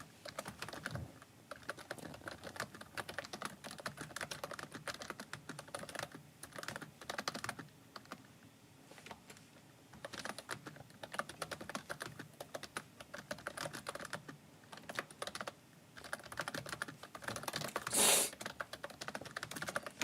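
Rapid typing on a computer keyboard, a dense run of soft close-up key clicks with short pauses, continuing steadily with no talking.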